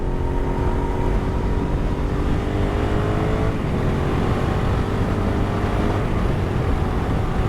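A Suzuki SV650 twin-cylinder motorcycle engine drones steadily and fairly loud throughout, with a continuous rumbling hum and slight shifts in pitch as it runs, no voices over it.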